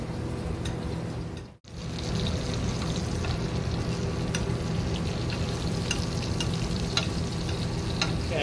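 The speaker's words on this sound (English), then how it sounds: "We're going to butter baste this for about a minute." Steak butter basting in a hot pan gives a loud, steady sizzle and spatter, with a brief pause partway through before the frying resumes.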